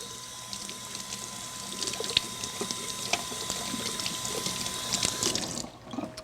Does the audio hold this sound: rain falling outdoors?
no